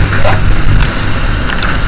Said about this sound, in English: It's gusting up to like 38, where we got both engines on. Motoring back to port.